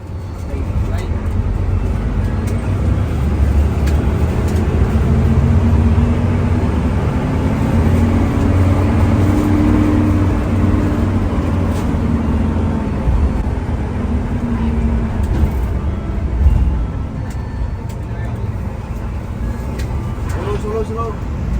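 Interior of a Sugeng Rahayu intercity bus moving at speed on a Jogja–Madiun trip: a steady, low rumbling drone of engine and road noise, quiet cabin hum continuous throughout, with brief speech-like sounds over it.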